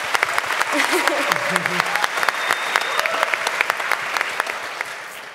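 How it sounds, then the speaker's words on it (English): Audience applause after a talk on post-capitalism, dense sustained clapping with crisp individual claps standing out, lasting over five seconds while a few voices murmur underneath. "so, applause for Hans"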